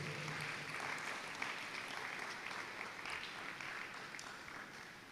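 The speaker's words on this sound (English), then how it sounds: "Let's keep clapping until he reaches here." Audience at a World Malaria Day commemoration welcoming a health official with sustained applause, an even, fairly distant wash of clapping that tapers gently.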